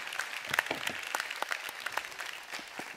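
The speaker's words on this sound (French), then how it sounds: "Je pense qu'on peut les applaudir." Light, scattered applause from a congress audience, individual claps distinct and fairly faint, continuing evenly throughout.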